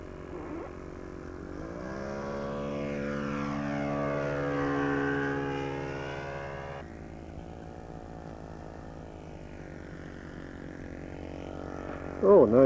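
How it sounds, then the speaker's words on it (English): A Drake Amphibian radio-controlled model airplane passes overhead with a steady buzzing propeller whine whose pitch sweeps and shifts as it flies by. It swells to a peak and then fades, with a brief voice near the end. "This is the first video of the Drake flight."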